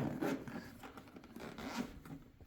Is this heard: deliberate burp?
no